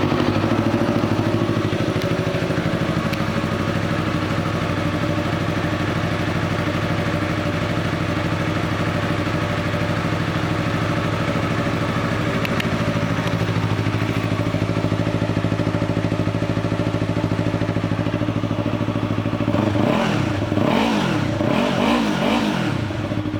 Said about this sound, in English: This 2015 Yamaha YZF-R3 is a pre-owned motorcycle